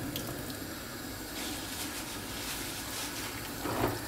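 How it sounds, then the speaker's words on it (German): Tap water running to rinse activated filter charcoal for a marine aquarium filter, a steady close splashing flow that swells briefly near the end. "Einmal hier Wasser aufdrehen."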